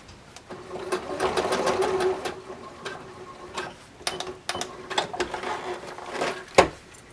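Sewing machine stitching fabric while overlapping the stitches at the end of a seam on a zippered fabric can organizer, a rapid mechanical whir in bursts with short pauses between runs, close and fairly loud.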